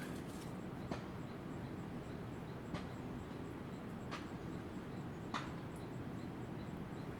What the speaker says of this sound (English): That's the way they smash the laundry against the rocks to get the water out.